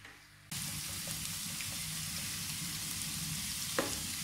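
Garlic hits hot oil in a pan with a sudden loud burst of frying that settles into an even, continuous sizzle, with one sharp tap near the end.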